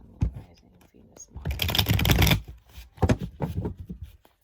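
Tarot cards are shuffled in quick riffling bursts, crisp papery slaps and rustles that swell into a dense flurry, then break into shorter scattered shuffles near the microphone.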